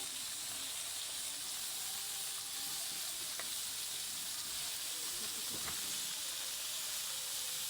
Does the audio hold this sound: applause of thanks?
no